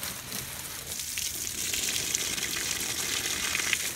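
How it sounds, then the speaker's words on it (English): Water sprays steadily over a houseplant infested with whitefly, a soft continuous hiss with no talking. "So I'm going to go over it with water."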